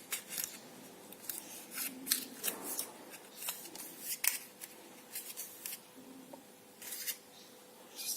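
Small scissors work a chocolate candy cone for a Christmas tree treat, making a series of quick, close, dry snips and crisp scraping sounds spread unevenly throughout.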